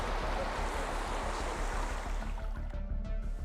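Rushing water floods holes dug by trespassers on a ranch in eastern Utah, a loud, steady broadband gush with a low churning rumble throughout, easing slightly near the end.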